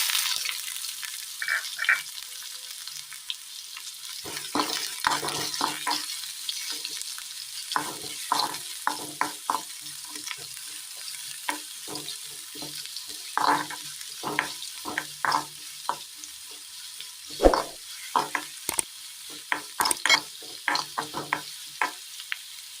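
Onions fry and sizzle in a pan with puffed rice, stirred by a spatula that scrapes and taps in irregular bursts over a soft, constant sizzle, close and without talk.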